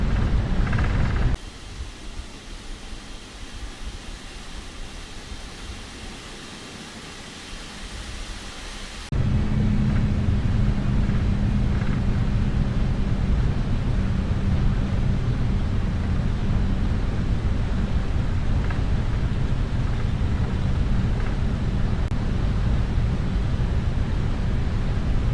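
Jet engines of a FedEx Boeing 777F in Microsoft Flight Simulator spool up for takeoff: a quieter hum at first, then a sudden jump to a loud, steady broadband roar that holds to the end.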